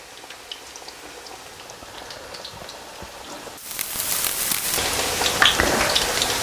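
Spinach and potato pakora batter hits hot oil, and a quiet background fizz jumps to a loud, steady, crackling sizzle that keeps spitting and popping close up.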